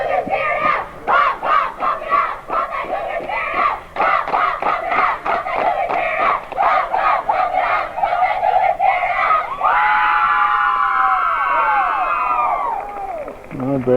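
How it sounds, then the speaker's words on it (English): A girls' softball team chants a new cheer together at a regional playoff game, rhythmic unison shouting with clapping beats that ends in a drawn-out high squeal from the group. "A brand new cheer for the regionals."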